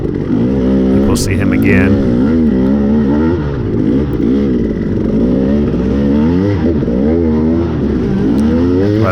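A Husky FE350 dirt bike climbs a hill during a cross-country race, its engine droning loud and close with wavering revs as the throttle rises and falls, while a rider talks over it.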